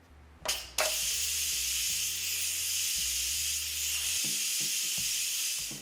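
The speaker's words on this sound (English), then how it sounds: "we're gonna use the vent on top to do a quick release for the rest of the pressure" Steam hisses forcefully and loudly from the top vent of an Instant Pot during a quick pressure release after cooking Cajun chicken and rice, a steady broadband rush that starts with a couple of bursts and holds alone.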